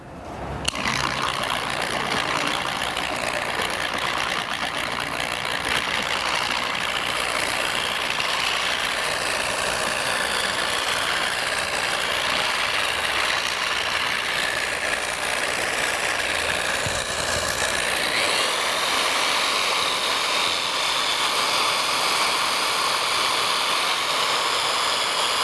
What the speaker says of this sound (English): So I'm gonna go ahead and start polishing the hood